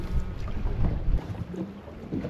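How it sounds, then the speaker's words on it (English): Gusty wind buffets the microphone on an open fishing boat in the Gulf, with low rumbling bursts that rise and fall over faint water noise. "it's so windy,"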